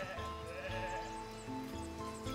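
Sheep bleat in the video game Foundation, a few drawn-out, wavering calls layered over a steady, dense game ambience.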